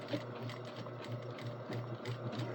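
A sewing machine runs steadily while sewing a back stitch, its fast needle clatter forming a continuous close mechanical whir of even rhythm throughout, with no talking.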